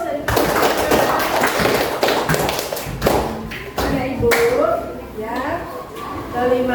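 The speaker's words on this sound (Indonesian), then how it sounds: "kita beri aplaus" A classroom of students claps after a group presentation: dense, steady applause fills the room for several seconds, then fades as a teacher's voice takes over.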